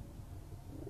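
Pigeons at a Multan pigeon loft coo softly and continuously, a low murmuring burble close by with no speech.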